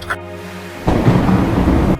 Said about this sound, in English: It's raining today. It's storming, as a matter of fact.